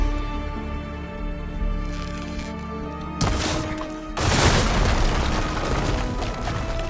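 A structure crashing down in a video game after its weak point is shot, heard as a sudden loud boom followed by a second, heavier rumbling collapse that rolls on over a steady background.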